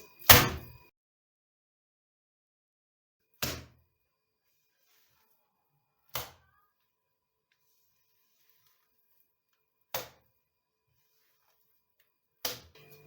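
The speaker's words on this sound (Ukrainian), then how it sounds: "Будемо його піднімати і кидати щонайменше 5 разів." Minced meat is lifted and thrown down onto a kitchen work surface five times, each landing a sharp slap followed by a short decay, spaced a few seconds apart with silence in between.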